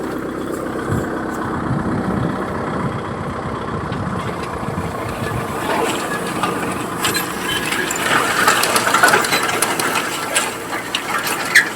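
A heavy diesel tractor engine chugs steadily nearby while spreading fertilizer in a cumin field, loud and continuous, with rattling mechanical clatter rising toward the end.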